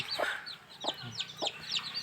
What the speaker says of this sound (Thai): นี่คือลูกไก่นะครับ อยู่กับแม่นี่